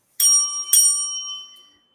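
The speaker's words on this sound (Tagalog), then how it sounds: "And I wanna give a bell." Two sharp strikes of a bright, high-pitched bell close together, each ringing out and fading over about a second.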